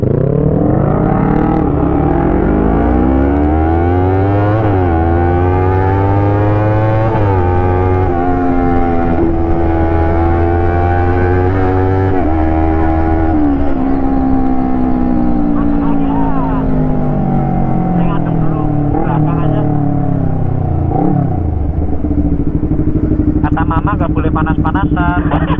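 Motorcycle engine revving and accelerating during a group ride, loud and close with rising and falling pitch as the rider shifts gears, with wind noise throughout.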